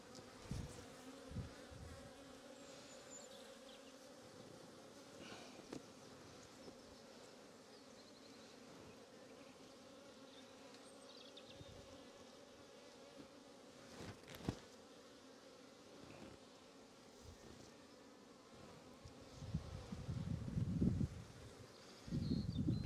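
Honey bees buzz steadily around an open hive on a cold day while eggs, larvae and brood frames are inspected, a dense continuous drone with occasional louder passes near the end.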